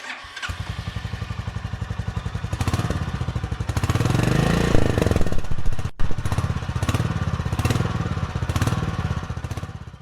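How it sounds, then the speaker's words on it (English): Royal Enfield Meteor 350 motorcycle exhaust, a loud steady thumping idle close by with a brief rev that swells and fades, then settles back into a rhythmic thump. "Let's listen to the exhaust."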